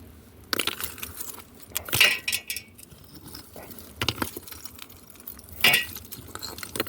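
Rocky dirt scooped with a shovel into a gold pan, heard as several separate crunching scrapes and clinks of stones hitting the pan, close by with quiet pauses between scoops.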